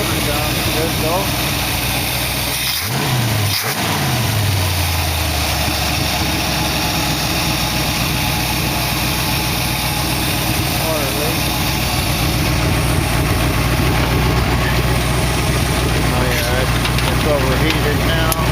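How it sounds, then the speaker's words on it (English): A 1914 car's motor idles steadily with a low, even rumble under broadband hiss, a passing low sweep near the start, continuous and close throughout. "Motor sounds good though."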